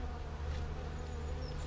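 Honey bees from a colony combined from two medium-sized colonies hum at an open hive, a steady, close, low drone with no pauses.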